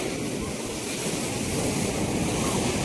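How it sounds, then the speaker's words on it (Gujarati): Sea waves surging up a beach, a steady broad roar of surf with wind buffeting the microphone, loud and continuous. "જે દરિયાનું મોજું આવે અને સામે દોડીને જાય"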